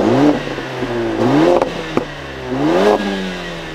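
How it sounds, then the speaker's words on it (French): A 2021 Mercedes-AMG GLA with a black quad exhaust revs three times in quick succession, each blip rising sharply and falling back to a close, throaty idle between them. "on a une sortie à quadruple échappement en noir pour entendre le son de notre AMG"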